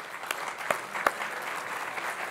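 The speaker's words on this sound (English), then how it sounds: "How about a little bit of an applause?" Audience at a housing conference applauding faintly: soft, scattered clapping in a large room, with a few sharper claps standing out, distant and fairly quiet throughout.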